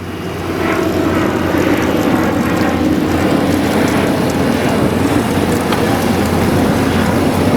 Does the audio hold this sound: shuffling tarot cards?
no